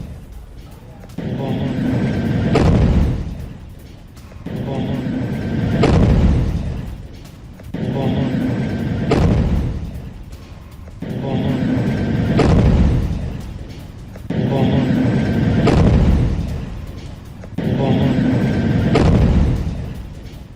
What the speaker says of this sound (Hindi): बुलडोजर पर हमले से भीषण धमाका हुआ है